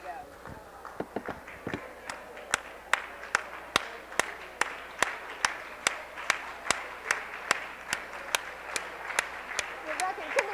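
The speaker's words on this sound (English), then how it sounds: "Linda, clap." At an awards plenary, one person's slow, loud hand claps repeat at a steady beat, as if keeping time, after a brief faster cluster at the start, over a hushed room murmur.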